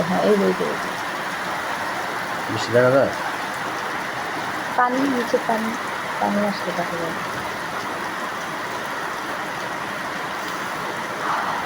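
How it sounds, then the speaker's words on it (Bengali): Heavy Kalbaishakhi storm rain in Barisal makes a steady, dense hiss throughout, with people talking over it at several points. "প্রচণ্ড বৃষ্টি এবং বজ্রপাত হচ্ছে"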